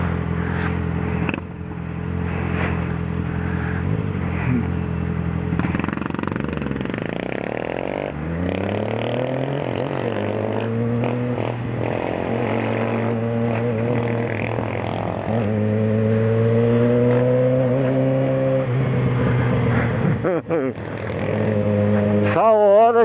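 Many Honda motorcycles pass through traffic, their engines droning steadily and rising and falling in pitch as they go by, with voices talking over the near, continuous engine noise.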